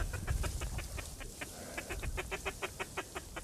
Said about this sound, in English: Oh, we got a lot of teal right here.